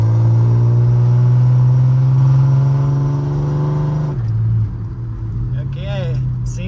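A $750 Pontiac Fiero's engine revs hard under acceleration, a loud rising drone that climbs steadily, then drops abruptly as it shifts and pulls again at a lower pitch. Voices are faint in the background.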